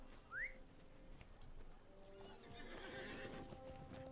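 A horse in the Lord of the Rings Online video game, heard as a brief whinny followed by a soft patter of galloping hooves, faint and alone with no talking.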